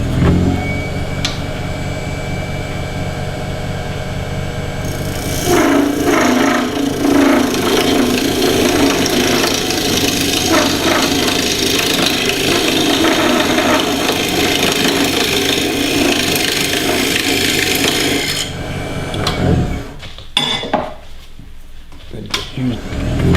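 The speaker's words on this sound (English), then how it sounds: "I'm just going to come in with the parting tool here and part it in half." A parting tool cuts into walnut spinning on a wood lathe, a loud continuous close grinding whir that deepens partway through, then breaks into scattered scrapes and bumps as the cut ends.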